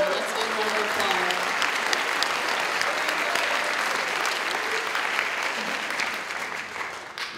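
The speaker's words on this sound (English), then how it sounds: "let's give her a round of applause" A full graduation audience at the Tinkham 2013 ceremony breaks into a sustained round of applause, dense clapping from many hands that holds steady before easing slightly at the end, with some voices mixed in.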